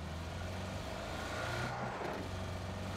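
A car in PUBG accelerates, its engine a steady mid-pitched drone that swells slightly midway, heard alone at moderate loudness.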